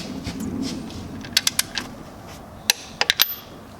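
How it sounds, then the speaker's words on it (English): A torque wrench tightens the manual transmission drain plug on a Genesis Coupe to 40 foot-pounds, giving a few sharp metallic clicks in two quick clusters over a low background hum, close by and with no speech. "We're just going to torque it down to 40 foot-pounds."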